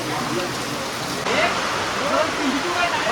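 Steady rain patters on surfaces nearby, a dense, even hiss that grows slightly louder partway through, with no voices over it.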